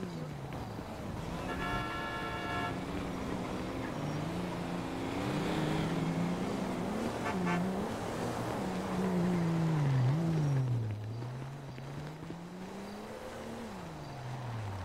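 A video game car engine drones and shifts pitch steadily while driving, revving up and down, with a brief beeping tone early on.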